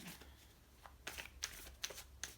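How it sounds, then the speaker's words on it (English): Cards are shuffled quietly, a soft riffle followed by several quick crisp flicks and taps, faint and close. "Let's shuffle them again."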